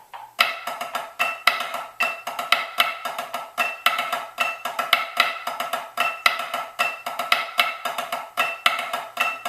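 Flam drag grid section played with sticks on a practice pad: a steady, continuous run of crisp, close stick strokes with accented flams and drags in repeating groupings, no talking.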